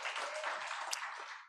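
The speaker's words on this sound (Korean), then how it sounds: "우리 하나님을 향하여 영광의 박수 올려드리겠습니다" A church congregation claps together in a dense, even wash of applause during a Sunday worship service. It is heard at a moderate distance and fades at the end.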